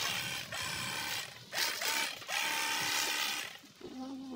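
Rechargeable battery-powered water spray gun used for washing a motorbike, its small motor whirring in bursts with short pauses and clicks, close and steady, no talk over it.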